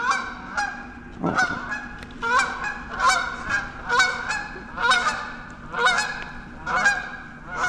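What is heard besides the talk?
Canada geese honking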